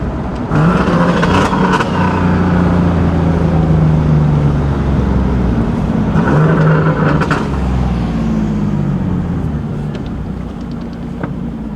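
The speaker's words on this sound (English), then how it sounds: "This car sounds insane." A powerful car engine with a T51R turbo revs hard and holds a loud, throaty roar, with pitch rising and falling across several pulls, close by and with no talking.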